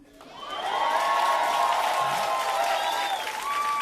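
Comedy club audience bursting into sustained applause with cheers and whoops, swelling quickly and holding loud and dense for several seconds.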